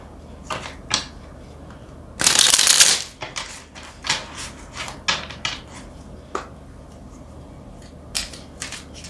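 Tarot cards shuffled close up in a reading, a dense riffling burst of about a second followed by scattered light taps and flicks of cards being handled.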